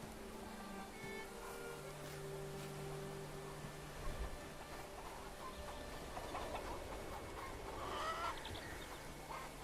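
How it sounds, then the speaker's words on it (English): Chickens clucking in the video game Bellwright, steady fowl calls over a continuous ambient game soundscape with scattered louder squawks. "And then chickens."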